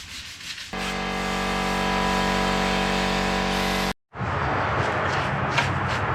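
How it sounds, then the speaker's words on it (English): Steady, loud abrasive rasp of a power sander working the bodywork of an ex-army Unimog, running continuously, cutting out briefly, then resuming with a rougher, grittier tone. "We're potentially gonna try to finish the sanding today."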